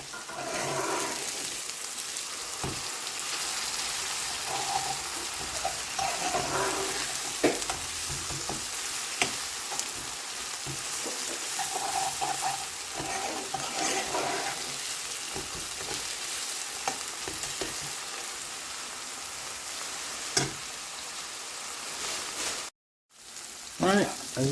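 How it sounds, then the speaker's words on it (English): Garlic and ginger paste fries in a pan with onions, a steady close sizzle with occasional stirring scrapes, briefly cutting out near the end. "2 tablespoons of garlic and ginger paste. Let that all cook together."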